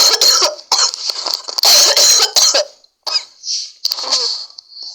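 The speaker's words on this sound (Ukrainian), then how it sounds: "Чуть-чуть покашлю." Several sharp, close coughs in quick bursts, followed by a pause and a couple of softer, shorter coughs.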